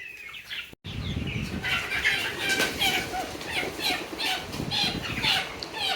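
Farm chickens and quail at a poultry shop, with a busy mix of squawks, clucks and wing flapping that runs almost continuously, close by and moderately loud.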